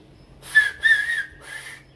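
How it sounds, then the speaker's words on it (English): Three sharp whistle blasts, two quick ones and then a third after a pause, loud and close with no voices. "Blow the whistle."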